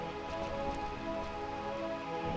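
Steady rainfall in the Final Fantasy IX video game, a constant close patter in a land of eternal rain, blended with a sustained musical score.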